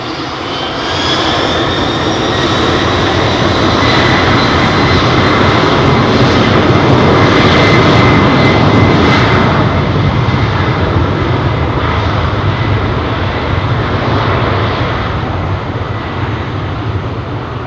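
An airliner takes off close by at London Heathrow Airport, a loud, sustained jet engine roar that swells and holds steady throughout, with no voices.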